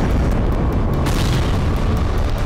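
Bombs explode in Lebanon as a loud, continuous rumbling roar of blasts with deep booms and dense crackling debris throughout, with no voices.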